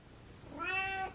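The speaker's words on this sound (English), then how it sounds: "Oh my gosh, my cat." A house cat lets out a single clear meow, drawn out and rising, close by in a quiet indoor room during Christmas decorating.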